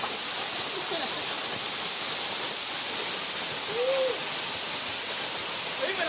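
Lubong Falls waterfall in Zambales pours as a steady, loud broadband rush close by, with faint voices calling briefly under the roar.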